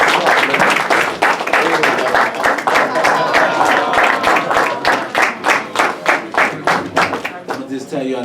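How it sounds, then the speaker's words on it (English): A round of applause at a post-fight boxing press conference, brisk clapping from a modest group rising over lingering talk and growing into clear, rapid claps before tapering off. "So another round of applause."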